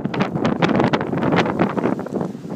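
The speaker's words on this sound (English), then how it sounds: "This wind is pretty brutal," Strong outdoor wind buffets the microphone in continuous loud gusts and rumbling bursts on a windy day at a car lot, with no other sound standing out.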